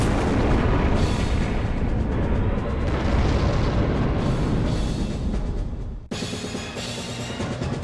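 Cannon fire in the video game Robot Alchemic Drive, a loud, continuous rumbling roar of heavy blasts that cuts off abruptly near the end into a thinner, ringing rumble.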